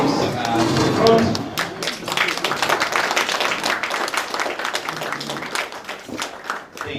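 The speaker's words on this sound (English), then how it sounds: "as we greet her with a round of applause as she comes to the front" A workshop audience claps as a speaker walks to the front, with quick, fairly close clapping that carries on steadily throughout and includes a few louder individual claps.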